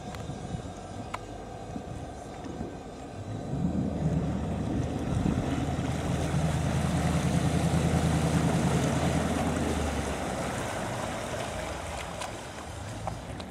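A Malibu boat runs on a river, its engine drone swelling in from a distance, holding loud through the middle, then easing off, with wind and water wash around it.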